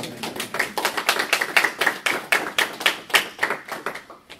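A small audience claps after a talk on custom importers, a sparse round of individual hand claps in an irregular, fairly close rhythm that thins out toward the end.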